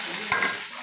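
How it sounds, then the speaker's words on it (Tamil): Large onions sauté in a pan for a paneer gravy, giving a brief, close, steady sizzle with a quick pair of spatula scrapes in the middle. "இப்போ நல்லா இது நம்ம வதக்கிடணும்"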